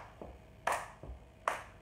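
Hand claps during an exercise routine, about three sharp claps spaced unevenly at roughly a beat apart, fairly faint with quiet thuds of movement between them.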